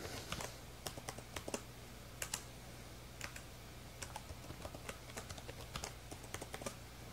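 Keys on a computer keyboard are tapped to type a password, heard as a run of quick, light clicks in uneven bursts over a steady low hum, close and fairly quiet with no talking.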